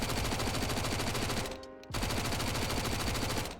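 MAC-10 submachine gun in a video game firing long, rapid full-auto bursts, loud and close, with a brief pause between two sprays.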